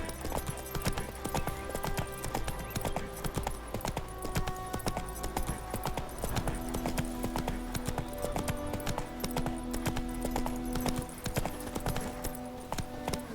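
Roach the horse gallops in The Witcher 3, a quick, steady clip-clop of hooves driving continuously at close range, layered over game ambience and occasional faint whinnying.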